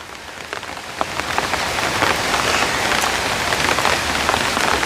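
Heavy monsoon rain pours down steadily in Thamarassery, Kerala, a dense, loud hiss of drops hitting surfaces that grows slightly stronger after the first second and continues without a break.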